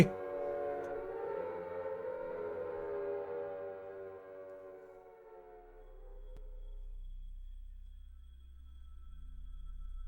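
Air-raid style sirens wail in the PS1 game Silent Hill, a loud, layered tone sliding slowly downward for several seconds before giving way to a low, steady rumbling drone.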